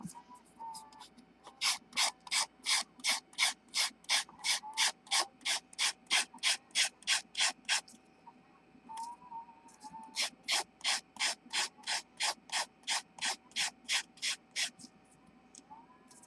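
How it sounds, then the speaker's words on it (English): Sanding the hair of a handmade bookboard Halloween decoration figure, heard as two long runs of quick, even back-and-forth rasping strokes, close and steady, with a short pause between the runs. "Let me sand his hair here."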